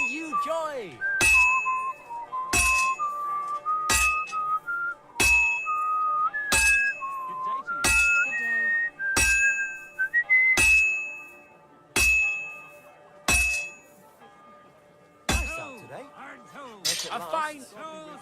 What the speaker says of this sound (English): Someone on that bell's going apeshit, can you hear it?